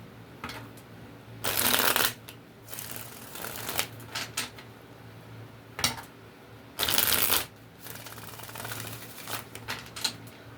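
Tarot cards shuffled by hand during a reading, with two long bursts of riffling and several shorter flutters and taps between them, close and fairly quiet, with no talk.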